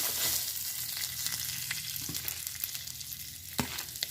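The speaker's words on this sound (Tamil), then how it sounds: "இது எல்லாத்தையும் லைட்டாக வறுத்தா போதும்." Ingredients for pirandai thuvaiyal (adjunct root chutney) lightly frying in a pan, giving a steady, close crackling sizzle with faint stirring scrapes and a few sharper pops throughout, with no voices.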